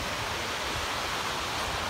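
Winter sea waves washing onto the shore, a steady broad hiss of surf filling the whole moment at even loudness, with no voices.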